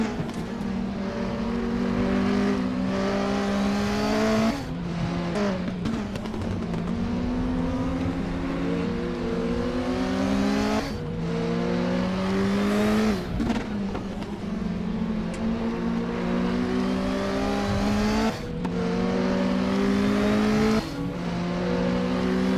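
Volvo touring race car engine at the Zandvoort circuit, loud and continuous from onboard, revving up through the gears with repeated rising pitch sweeps and sharp drops at each shift, no voices.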